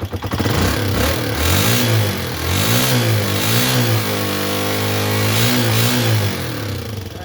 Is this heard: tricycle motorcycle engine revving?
yes